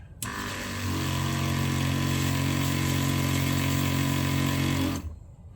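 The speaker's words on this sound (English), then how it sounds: "this is an on-demand pump, so it senses the pressure when you release the handle here, and it will kick on" Seaflo on-demand water pump kicking on and running, a loud close motorized hum with a steady tonal drone and buzzy overtones that starts abruptly, holds evenly for about five seconds and then stops.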